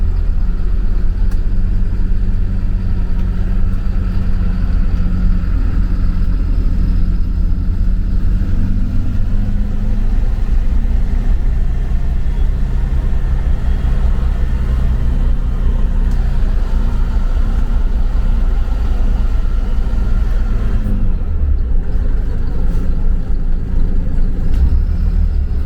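Front-engine intercity bus running on the road, heard from the driver's cabin, with a deep steady engine rumble and a low drone that shifts in pitch as it changes gear, close and constant.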